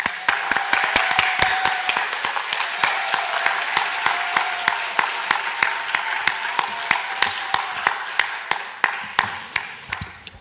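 A church congregation at an evangelism seminar applauds to welcome a pastor, a dense, steady clapping that carries on for about ten seconds with sharp individual claps standing out near the end.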